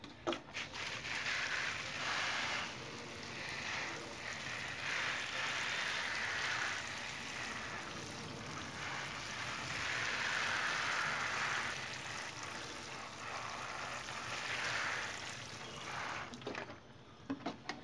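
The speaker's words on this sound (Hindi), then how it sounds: "और इसे लगाने के बाद आप इसमें बिल्कुल पानी झरने से इस तरह से" Freshly sown ten o'clock plant seeds are watered with a sprinkler, a soft, pattering shower of droplets on soil that rises and falls in several bursts, fairly quiet and close with no talk.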